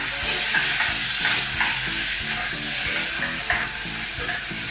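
Chopped onions sauteed after garlic in a pan for green beans with canned tuna, a loud continuous sizzle with rhythmic scraping strokes of a spatula, close up and without speech.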